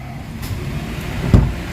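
A Mitsubishi Mirage engine with throttle delay and low power, held near 1,000 RPM, gives a steady low hum with one short, louder rev swell near the end.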